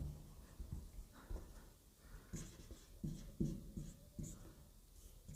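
Trigonometry ratios are written on a board by hand, making a string of short scratchy strokes and taps in an uneven rhythm, fairly faint and close, with no talking.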